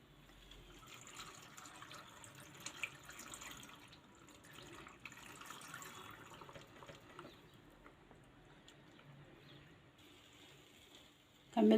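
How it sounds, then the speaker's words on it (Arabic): Water pours softly into a glass pickle jar of beetroot, a faint, trickling fill at close range, ending in a sudden louder knock. "هنبتدي نحط الميه"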